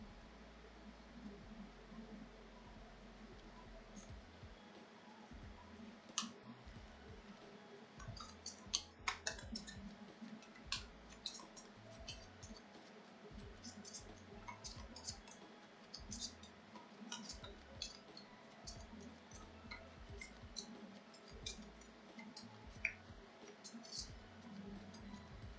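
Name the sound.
shuffling a deck of cards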